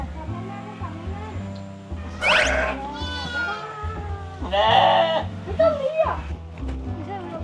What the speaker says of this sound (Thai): มันไม่ใช่แพะนะ มันเป็นแกะ